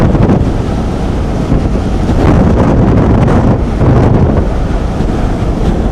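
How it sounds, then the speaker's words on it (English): A strong gust of hurricane wind during Hurricane Katrina buffets the microphone in a loud, continuous roaring rush that surges and eases in waves. "That is a major gust of wind that came over."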